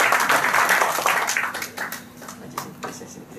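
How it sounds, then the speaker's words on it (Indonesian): Church congregation applauding, a burst of dense clapping that is loud at first, then thins and fades over a few seconds. "Tepuk tangannya meriah buat Tuhan Yesus."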